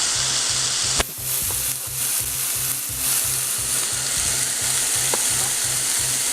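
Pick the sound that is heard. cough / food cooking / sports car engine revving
food cooking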